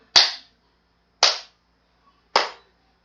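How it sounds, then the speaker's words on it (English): Three sharp hand claps ring out about one second apart, close and loud, each a crisp smack with a quick decay into silence. "we are gonna need to clap so that the the screen recording and the face recording are in sync"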